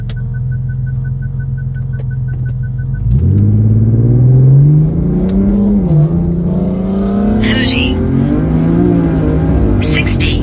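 BMW N55-powered car accelerating hard on a drag strip at night, the engine idling low and then surging loudly with rising revs and shifts that climb steadily over several seconds.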